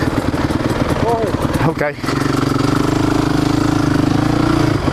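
A 2015 KTM 250XC two-stroke dirt bike engine runs at a steady, fairly low buzzing rev, loud and close, with a brief dip before settling into a sustained drone; someone speaks briefly over it.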